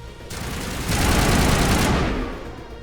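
Continuous assault rifle gunfire in the video game Mass Effect, a loud, dense rattle of rapid shots that swells in the middle and then fades out, with no talking over it.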